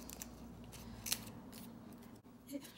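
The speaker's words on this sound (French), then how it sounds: "Et je vais venir découper." Scissors snip through post-it note paper in a quiet room, a few soft close cuts with one sharper crisp snip near the middle, over a low steady background hum and no talking.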